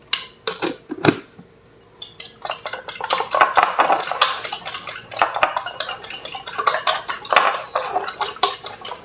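A fork beats two eggs with a little salt in a bowl, making rapid, rhythmic clinking and scraping against the bowl that is loud and close, after a brief pause near the start.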